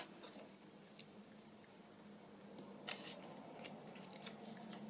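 Small scissors make a few faint, quick snips while trimming a paper journal pocket, scattered crisp cuts close by in a quiet room with no talking.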